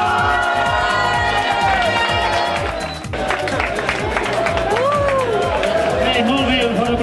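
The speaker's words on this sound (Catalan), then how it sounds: "Molt bé, un bon aplaudiment." A crowd applauds and cheers at a rice cooking contest during the Sant Cugat Festa Major in 2012, with dense, steady clapping and shouting voices that stay loud and close for the whole stretch.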